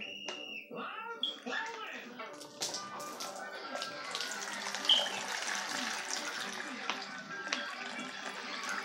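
Water runs steadily from a tap, a broad hiss filling the clip, with a voice briefly talking over it near the start.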